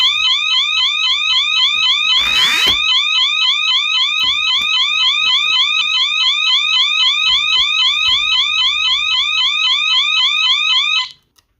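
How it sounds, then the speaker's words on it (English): A Bosch/Radionics 4012/8012 security alarm panel sounds after a window is tripped in stay mode: a loud, continuous warbling electronic siren repeating rapidly for about eleven seconds before abruptly cutting off, with a brief bump midway. "Cancel the alarm."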